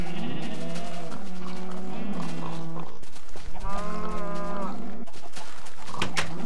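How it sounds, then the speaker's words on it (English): Cows mooing in the Minecraft video game, several long drawn-out moos one after another, loud and close with no talking over them. "Some nice cows you got"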